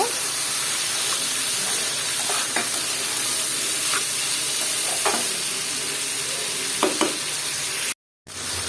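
Vegetables including kakrol stirred with prawns frying in a pan, a constant loud sizzle and hiss with scattered light scrapes and taps of the spatula, close up.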